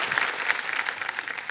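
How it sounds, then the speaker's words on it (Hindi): Studio audience on the KBC quiz show applauding steadily, a dense, even wash of clapping that fills the whole moment with no talk over it. "पहली बार देखा है कि ऑडियंस अपने ही लिए ताली बजा रही है"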